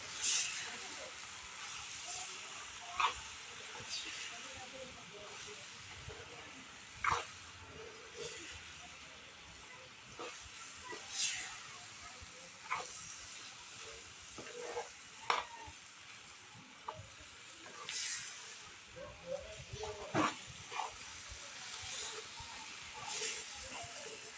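Quiet sizzling of meal maker masala curry in a pan with intermittent scraping strokes of a spoon stirring, irregular bursts over a soft hiss.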